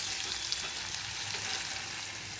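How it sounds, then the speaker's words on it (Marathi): Onion sautés in a pan with a steady, close hiss and crackle of frying oil, even and continuous throughout. "तर इथे आपला हा कांदा परतून झालेला आहे"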